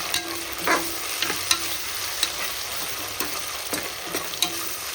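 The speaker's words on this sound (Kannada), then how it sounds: "ಇನ್ನು ಸ್ವಲ್ಪ ಈಗ ಇದನ್ನು ಎಣ್ಣೆ ಒಳಗೆ ಚಲೋ ಕೈ ಆಡೋಣ." Ginger garlic paste frying in hot oil while being stirred, a close continuous sizzle punctuated by frequent quick scrapes and clinks of a spoon against the pan, with no talking.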